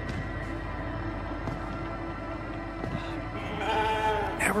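A sheep bleats in the video game The Alters, the bleats sitting over a steady game soundtrack and background hum, getting louder toward the end.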